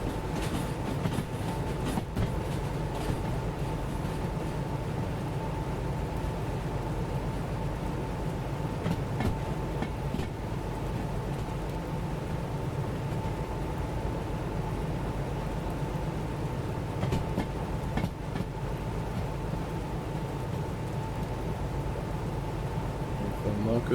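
A train coasts along the rails in the Derail Valley railway game, a steady low rumble with a faint constant hum and occasional soft clicks from the track, moderately quiet and unbroken.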